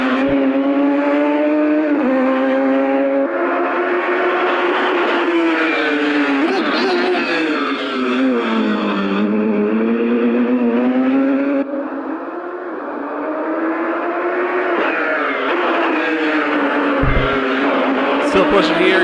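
A race car laps a track at full speed, its engine a loud, continuous high-revving drone whose pitch rises and falls through gear changes and corners. A commentator talks over it throughout.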